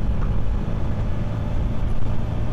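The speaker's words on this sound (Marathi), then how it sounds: "गाड्या एकदम मस्त चालल्यात आणि तिथे जाऊन डिसअपिअर होतात" Cars and trucks rolling across a bridge in Goa, a steady, loud rumble of passing traffic with a low engine drone throughout and no voices.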